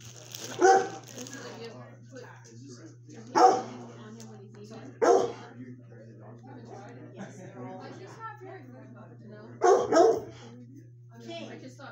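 A six-year-old shelter dog in foster care barks in four sharp, separate bursts spread across the clip, with one double bark near the end, over a steady low electrical hum and muted voices in the background.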